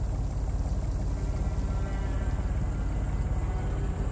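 A diesel pump at an excavation site in the game Secret Files 3 chugs away steadily, a low rapid mechanical pulse with a continuous hum, even and unbroken throughout, with no voices.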